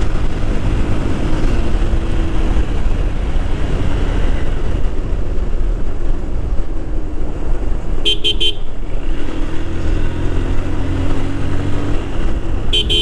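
A Honda Hornet 160R motorcycle on the move shifts up through second and third gear, its engine and wind rush loud and constant, with short horn toots from nearby traffic partway through.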